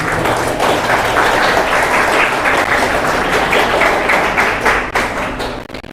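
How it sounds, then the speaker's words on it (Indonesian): A crowd at an Islamic junior high school year-end graduation celebration in Bekasi gives loud, sustained applause, thick with many hands clapping at once, tapering slightly near the end, with no speech over it. "Tepuk tangan dong."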